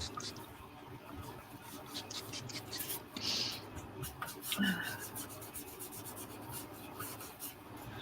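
Excess paint is rubbed off a stencil with quiet, repeated scrubbing strokes, a soft close-up rasping rhythm with small clicks and a brief squeak, low background voices faintly present.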